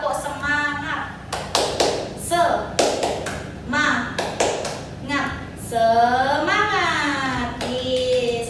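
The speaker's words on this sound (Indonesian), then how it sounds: "bagaimana kalau kita tepuk semangat dulu ya?" A primary-school class in an Indonesian fourth-grade lesson performs a rhythmic clapping cheer routine, sharp claps in patterned bursts mixed with children's and a teacher's voices chanting along.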